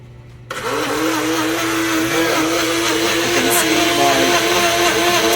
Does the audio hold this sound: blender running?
yes